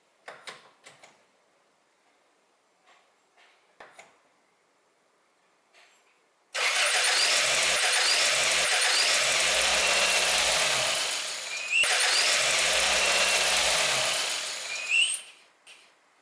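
A few clicks and knocks, then a Toyota Corolla engine cranks and roars to life, running loudly and steadily with a brief dip before continuing.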